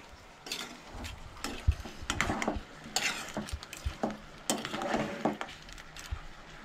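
Goan crab sukkha is stirred in a pan with a spoon, giving close, irregular scraping and clinking strokes against the metal and a light sizzle underneath.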